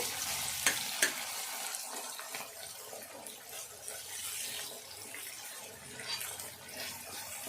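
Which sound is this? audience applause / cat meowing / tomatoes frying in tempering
tomatoes frying in tempering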